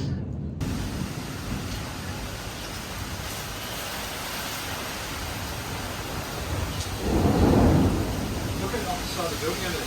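A big thunderstorm outside a building, with a steady hiss of heavy rain throughout and a deeper swell of rumbling thunder rising and fading near the end.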